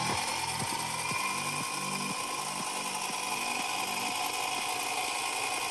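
An XLF X03 RC car's electric motor runs with throttle trim applied, giving a steady high whine with repeated rising pitch sweeps, close and continuous, with no talking.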